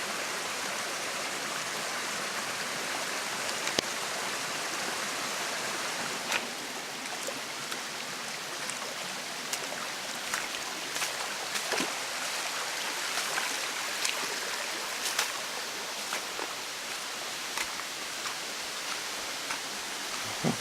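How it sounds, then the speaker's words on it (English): Steady, dense roar of rushing river water near a tall waterfall at Hemmed-In Hollow on the Buffalo River, a broad unbroken wash of noise with faint splashy ticks, constant and loud throughout with no voices. "It's gonna get loud over here with all that water."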